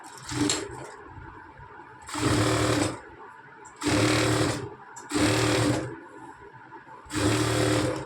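A sewing machine stitches the side seam of a churidar in four or five distinct bursts of a loud, close mechanical whirr, each lasting about a second, separated by brief pauses.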